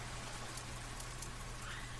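Steady Minecraft rain, a soft, even hiss of falling drops with no breaks, faint and continuous with no voices.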